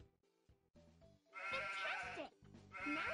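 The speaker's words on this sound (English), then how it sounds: "Now drag the arrow to point to the animal that says... Sheep." A sheep bleats in a children's animal game, with a few short musical tones first, then two long wavering bleats that sound loud and close.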